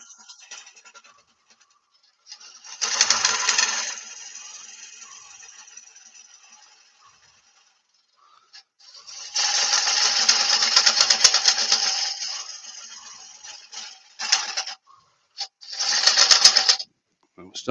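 A wood lathe turns a natural edge aromatic cedar bowl, the gouge scraping in bursts of loud rasping cut separated by quiet gaps.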